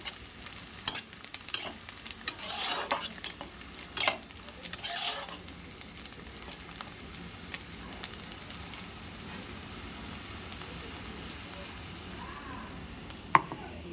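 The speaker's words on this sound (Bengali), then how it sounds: "পেঁয়াজটা লাল লাল করে ভাজা" Onions fry in a pan until reddish brown, a soft crackling sizzle broken by several louder bursts of scraping stirring in the first half, then a quieter steady fry with occasional light clicks.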